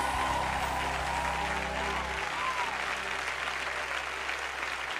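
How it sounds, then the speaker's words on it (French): A church congregation clapping their hands together in steady applause during a morning service, sustained clapping that continues throughout while a low musical tone fades out partway. "Let's give him a big hand clap this morning."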